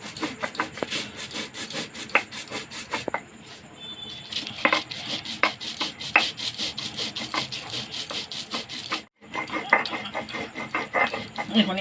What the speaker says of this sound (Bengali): এভাবে পোস্তটাকে আমি বেটে নিচ্ছি, একটু মিহি করেই বাটবো